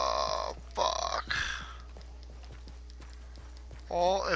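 Horse hooves clip-clop in Red Dead Redemption 2, a short run of soft, evenly spaced hoofbeats beneath brief bursts of a voice at the start and end.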